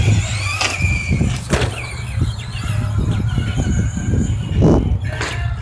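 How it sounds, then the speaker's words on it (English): A rental Traxxas Slash RC car with a Titan 12-turn brushless motor and a Castle controller on a 2S LiPo drives a track in Reno. High electric whines rise and fall among bursts of squealing and scrabbling. "my uncle's gonna be driving the Traxxas Slash rental car, which is powered by a 2S LiPo and a Castle and a Titan 12 turn"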